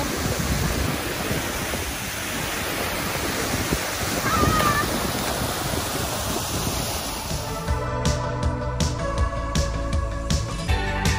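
Falls number 3 at Bolinao, Pangasinan pour in a steady, broad rushing roar that fills the scene, with a sharper, more broken texture near the end.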